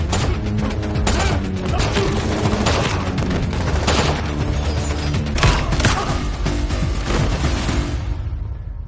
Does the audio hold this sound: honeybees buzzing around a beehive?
no